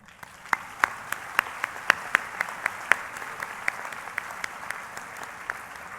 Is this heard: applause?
yes